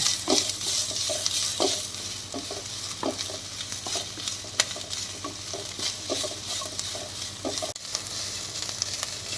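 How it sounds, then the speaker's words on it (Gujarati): Onion sautéed in a pan for chaat, with steady sizzling and repeated rhythmic scrapes and taps of a spoon stirring against the pan, close and clear. "ડુંગળીને ભેગી આમ સાતળવાની છે"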